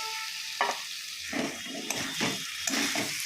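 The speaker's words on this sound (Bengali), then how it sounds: "চিকেনের মশলা এখন কষানো চলছে তো মোটামুটি তেলটা ছেড়ে দিয়েছে" Marinated chicken masala with onions frying in oil in a pan for biryani, a steady close sizzle broken by several scraping stirs of a spatula.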